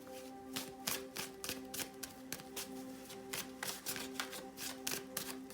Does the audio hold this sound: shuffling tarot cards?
yes